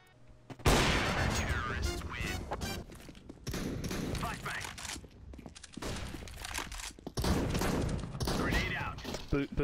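Bursts of gunfire from a CS:GO competitive match, rapid volleys that come and go with short lulls, loud and close, with players talking over the shots.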